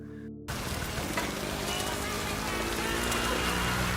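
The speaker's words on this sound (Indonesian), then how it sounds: "Air hujan yang turun pun masuk melewati celah-celah lubang goa." Heavy rain pours down and falls into a cave as a dense, steady hiss with patter, loud and continuous after a short tonal intro.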